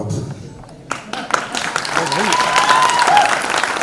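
A crowd at a singer's grand birthday celebration and book launch bursts into dense applause that builds and holds loudly, with a voice talking over the clapping and brief tonal sounds in the background.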